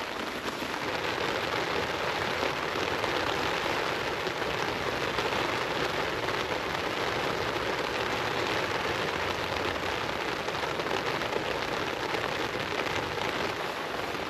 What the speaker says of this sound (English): but the rain is seriously giving it some.